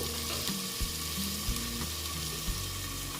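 Potato, pointed gourd and soybean vegetables fry slowly under a lid, a dense, constant sizzle with a low hum and faint regular knocks, close and even throughout.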